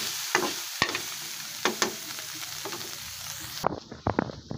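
A spoon scrapes and stirs ground pork through sauce in a hot pan, with soft sizzling beneath irregular clacks and scrapes that grow busier toward the end.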